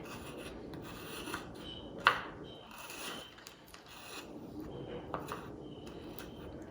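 Excess gel is scraped off an aloe vera leaf in faint, close rasping strokes, with one sharper scrape partway through and soft irregular scratching around it.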